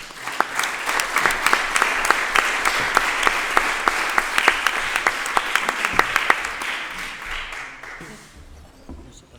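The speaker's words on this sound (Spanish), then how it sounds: "un aplauso para todos vosotros" An audience at the opening ceremony of the III Jornadas "Lerín Tierra Estrella" 2019 festival applauds, with dense, steady clapping sustained for most of the clip before it fades out near the end.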